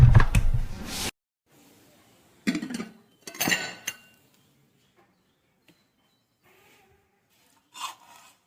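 Khichuri and fried food are served onto plates on Saraswati Puja day: scattered scraping and clinking of a serving spoon against pots and plates in short bursts separated by quiet gaps.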